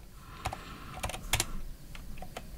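Computer keyboard keys clack in short irregular clusters, close and fairly crisp, with brief pauses between bursts of typing.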